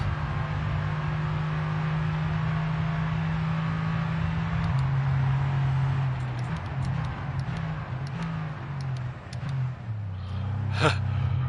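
F1 car engine in F1 22 on PS5, a loud, sustained droning engine note that shifts pitch, with a quick rev near the end.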